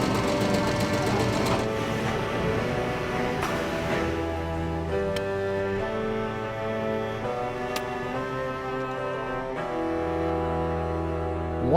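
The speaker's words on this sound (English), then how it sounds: "the embroidery station where we have 6 and single head machines that can pump out 400 to 500 gloves a day" Embroidery machines in a baseball glove workshop stitch leather with a steady, rapid mechanical chatter and hum that runs throughout, interrupted by occasional clicks and a brief sharp tick near the end.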